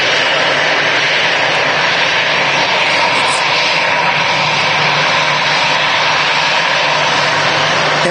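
A loud, steady roar from an EasyJet airliner's engines as it arrives from Rome at Manchester Airport, a continuous close-range drone that holds throughout.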